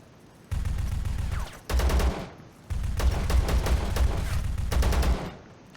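Gunfire from the video game Zero Sievert, three loud sustained bursts of rapid automatic shots with brief pauses between them, close and alone without talk.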